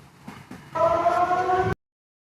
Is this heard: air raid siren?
yes